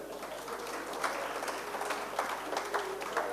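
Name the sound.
audience applause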